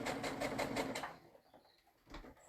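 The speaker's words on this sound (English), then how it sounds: "I'm just going to sew that onto here" A sewing machine stitching a quilt block, a quiet rhythmic run of rapid needle strokes that stops after about a second, followed by faint handling sounds.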